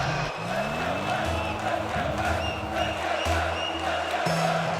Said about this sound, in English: That got the crowd going for Moist.